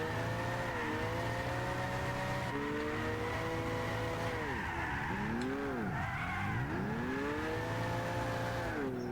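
An HKS Nissan Silvia S15 drift car in Gran Turismo 6 on comfort soft tires with traction control off, its engine droning and revving steadily with pitch swoops as it slides, tires squealing at times throughout.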